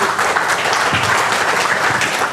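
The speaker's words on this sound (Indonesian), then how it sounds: "Tepuk tangan dulu buat Kangen Water" Audience applause at a Kangen Water marketing presentation, a dense, steady wash of many hands clapping together, fairly loud and sustained throughout without talk.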